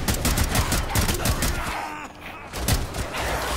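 Rapid rifle gunfire from a Rainbow Six Siege match, dense bursts of shots crackling continuously at close range through the whole stretch, with a brief lull midway, mixed with game noise and talk.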